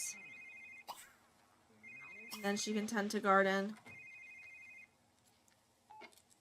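A telephone ringing in The Sims 3, a repeated electronic trill in short bursts at a moderate level, with a person talking over part of it and game chatter in between.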